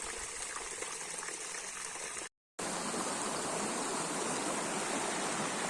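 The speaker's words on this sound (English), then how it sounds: "Now I'm down at the river, the lowest point I can reach" A river rushes steadily at the lowest reachable point of a hillside micro-hydro site, a dense, close, continuous wash of water broken by one brief dropout to silence before resuming.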